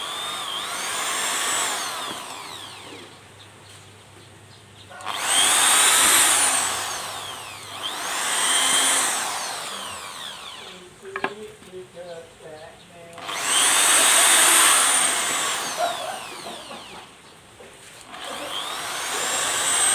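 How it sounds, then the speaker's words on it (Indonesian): An electric drill whines into wood in repeated bursts, revving up and cutting out several times, with quieter gaps and some handling clatter between runs. "Kita bor aja ya teman-teman ya"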